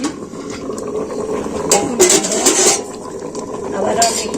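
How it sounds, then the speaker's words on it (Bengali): A few metal clanks ring out as a lid is set on a cooking pot of vegetables and whole kalai lentils being boiled. The clanks come close and brief over a person talking. "এখন আমি ঢাকা দিয়ে দিচ্ছি আবার আমি ঢাকাটা দিয়ে দিচ্ছি"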